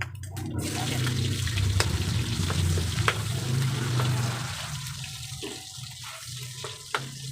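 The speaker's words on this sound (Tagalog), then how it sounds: "Mag-gisa natin itong bawang." Garlic sautéing in a hot pan as a base for a gourd (upo) stir-fry, giving a steady broadband sizzle close by with a few light clinks of stirring and a brief faint voice at the start.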